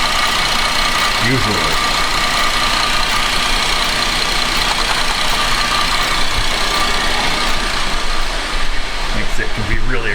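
A 2011 Buick Enclave engine idles unevenly with a steady, loud running drone and slight roughness, while someone speaks briefly over it near the end.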